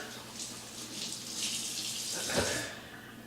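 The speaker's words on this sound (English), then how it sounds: "what I like to do is just rinse them down with some cool tap water" Cool tap water runs steadily as raw pork ribs are rinsed under it, a continuous moderate splashing hiss with a brief louder gush near the end, no talking.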